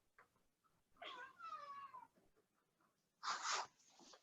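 A house cat meows in a drawn-out, falling call near the microphone, followed by a shorter, louder, harsher meow a moment later.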